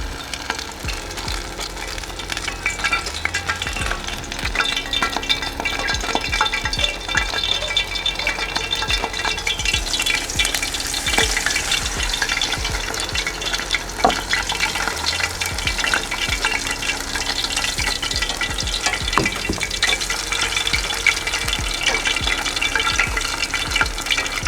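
Battered pieces for a sushi dragon roll fry in hot oil, a loud, busy sizzle and crackle that holds steady for the whole stretch, with occasional clinks and stirring.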